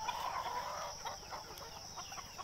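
Native chicken, a five-month-old rooster, clucking among farm birds; steady soft clucks and chatter run continuously at moderate distance with no voices.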